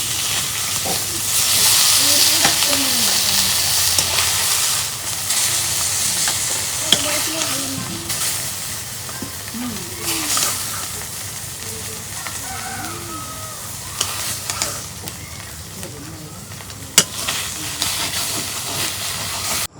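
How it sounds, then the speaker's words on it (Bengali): Large pomfret fish fry in a hot pan, giving a steady, close hissing sizzle that swells and eases, with faint voices murmuring in the background. "মাছ ভাজা হচ্ছে"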